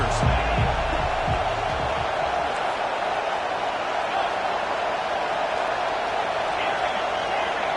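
A packed stadium crowd at a college football game roars in a loud, continuous wash of cheering and noise that holds steady throughout, with an announcer's voice briefly heard at the start.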